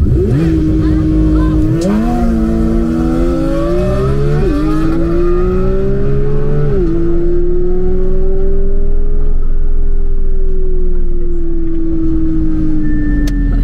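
A Porsche 992 GT3 engine revs hard and loud up close, its pitch climbing in surges before holding a high, steady note near the rev limiter.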